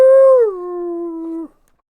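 A person imitates a wolf howl, a single clear, sustained tonal cry that starts high, bends downward, holds a steady pitch, and cuts off abruptly, loud and close with silence after.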